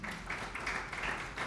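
An audience claps in a steady, dense wash of applause at a launch event in Ghana, a brief burst with no talking.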